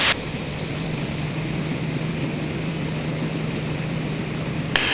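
An aerobatic propeller airplane flies a loop with a full roll at the top, its engine giving a steady, even drone heard from inside the cockpit, loud and unbroken throughout with no one talking.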